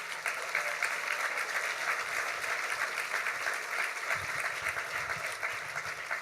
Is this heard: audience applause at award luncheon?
yes